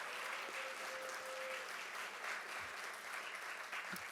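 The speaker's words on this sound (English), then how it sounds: "I just want to have another big round of applause for students," An audience at an awards ceremony applauds students with a sustained, even round of clapping heard from a moderate distance, with a faint tone and a few low bumps beneath it.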